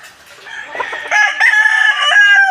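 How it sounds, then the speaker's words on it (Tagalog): A rooster crows loudly nearby, one long drawn-out call that rises and holds before trailing off. "May mga nakatambang na manok."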